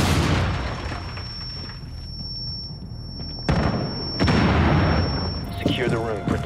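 A breaching charge detonates in Rainbow Six Siege, with loud booming blasts and crashing debris up close, followed by a second burst and gunfire-like noise amid radio chatter.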